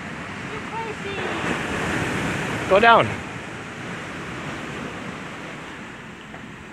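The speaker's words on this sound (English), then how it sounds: "Look at the water coming in there." Sea water washes in at an abandoned beach house on Isla Colon, Bocas del Toro, Panama, a steady rushing surf with wind buffeting the microphone, and a brief voice speaks midway.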